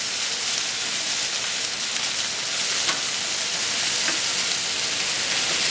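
Seaweed, shallots and white balsamic vinegar hiss loudly on a hot griddle during a mussel cook, a dense, even sizzle with a few faint stirring scrapes, close and continuous without speech.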